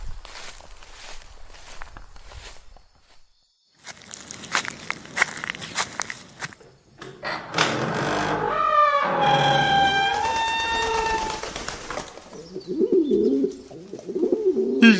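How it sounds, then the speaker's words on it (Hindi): Pigeons coo in a dim, eerie building at night, a soft rolling call rising clearly after footsteps and shuffling, the cooing repeated over several seconds close by, with no talk. "यहाँ पे भी कबूतर,"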